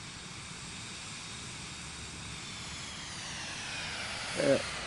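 An airplane engine in Microsoft Flight Simulator 2024 drones steadily in a low, broad hum with a faint rising whine, slowly growing louder, a brief bump near the end.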